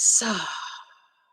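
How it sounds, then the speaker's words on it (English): A single deep, breathy exhale during a guided breathing meditation, starting with a hiss of air and fading out over about a second. "exhaling"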